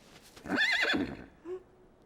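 A single short horse whinny close by in a stable, rising and wavering, followed by a soft low snort, in a French cartoon.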